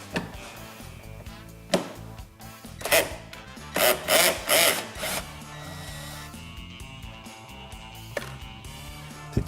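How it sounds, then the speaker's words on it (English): A power tool set on low backs out the fairing screws on a 2011 Harley-Davidson. Several short whirring bursts sound close by against a quiet background, with a longer run in the middle. "You have to put this on low setting if you want to use a power tool."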